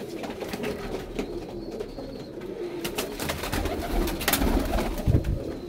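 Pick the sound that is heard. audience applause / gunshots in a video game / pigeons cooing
pigeons cooing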